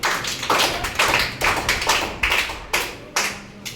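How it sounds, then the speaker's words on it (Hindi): A classroom of students claps in uneven bursts of quick hand slaps, several swells that start sharp and fade, fairly close and loud, with no talking over them. "चलिए इसके लिए भी ताली बजाइए"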